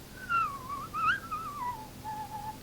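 A person whistling a short, wavering tune in a quiet room, several sliding phrases in a row, clear and close with no talk over it.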